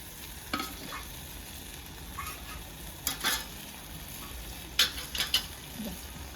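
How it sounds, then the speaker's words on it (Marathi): Crab curry masala is stirred in a pot over a wood fire, giving a few scattered spoon scrapes and knocks against a steady frying sizzle, fairly quiet and without talk. "हे मस्त असं मिक्स करते आई"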